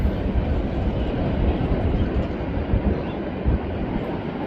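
A fast train rolls steadily past on the Santa Fe main line in Galesburg, a continuous, loud rumbling roar with faint rail clatter throughout.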